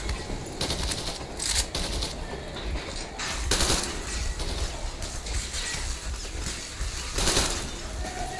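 Gunfire in the video game Metro Exodus comes as bursts of sharp shots and mechanical clatter over continuous background noise, repeating irregularly throughout.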